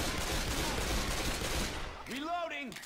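Dense, sustained gunfire from the Left 4 Dead 2 zombie shooter, rapid shots packed together for about two seconds before cutting off, followed by a brief warbling tonal sound.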